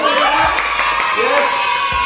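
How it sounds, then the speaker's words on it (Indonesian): An audience at a church youth gathering cheers and shouts in welcome, a short loud burst of crowd whoops and claps close by, with voices mixed in. "Tolong tepuk tangan nih semuanya"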